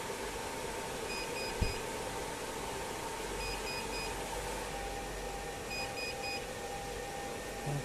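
Overload alarm of a 12 V 1000 W inverter during an LED load test, faint triple beeps repeating three times over a steady electrical hum and background noise.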